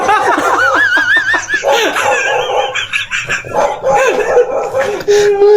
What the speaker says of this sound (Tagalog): Aso lang yun eh.